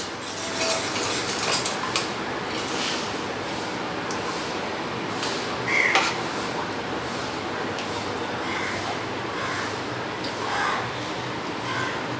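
Cutlery scrapes and clinks against a bowl as pasta mix and fish, seasoned with mixed herbs, are stirred together for a Bhetki fish dish; steady close clatter with intermittent sharper knocks, no talking.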